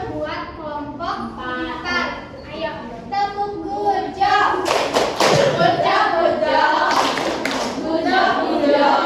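A primary-school class in Indonesia performs the "tepuk gujah" clapping chant, children's voices rising into a burst of rhythmic group claps and slaps that grows louder and busier in the second half.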